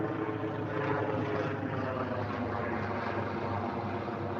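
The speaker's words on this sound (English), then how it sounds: "sorry, got a helicopter coming over." A helicopter drones steadily overhead, a continuous rumbling roar at moderate distance with no voices.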